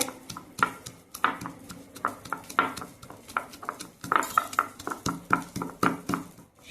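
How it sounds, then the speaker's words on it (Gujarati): Repeated hard knocks of a pestle pounding roasted peanuts in a bowl, steady rhythmic thuds with scraping and clinks, close and fairly quiet. "આ રીતે શિંગદાણા છે એને ખાંડી લેવાના છે"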